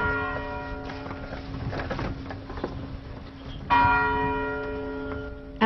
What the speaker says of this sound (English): Bells rang 39 times to honor the number of years he lived.